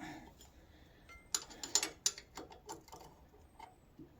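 Metal bolts being tightened on a brake caliper of a Land Rover Defender 130 TD5: a short run of close ratchet clicks and tool knocks, faint at first and then in a quick sequence of sharp ticks.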